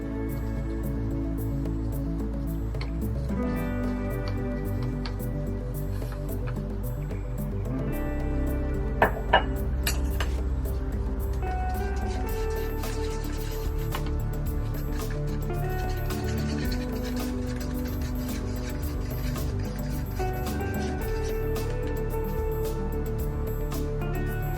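Cold process soap batter poured from up high lands in thick, soft splats and drips, a quiet, steady liquid flow running on alone without talk.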